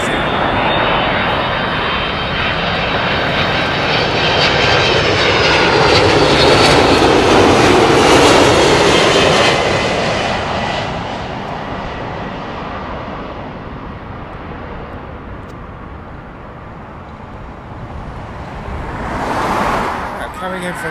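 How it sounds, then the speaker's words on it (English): A United Airlines Boeing 767 jet passes at London Heathrow, its loud broadband engine roar swelling to a peak mid-pass and slowly fading as the aircraft moves away. "From Washington, United Airlines. It's the Boeing 767."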